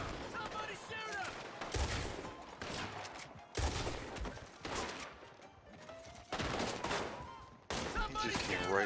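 Rapid gunfire erupts in Red Dead Online during a shootout at the Blackwater Saloon, repeated loud volleys of shots sounding close by in bursts.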